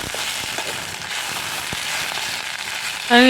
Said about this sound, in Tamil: எண்ணெய் ஊற்றி நல்லா வதக்கி எடுத்துக்கணும்